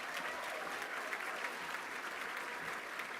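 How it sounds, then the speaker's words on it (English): A large audience at a University of West London graduation ceremony applauds the Board of Governors, a continuous, even wash of clapping heard from a distance with no voices. "Can you give them a round of applause?"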